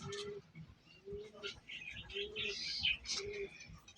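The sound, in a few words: pigeons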